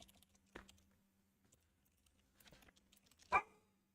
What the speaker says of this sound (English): I'm going to go let the dog in so that he stops barking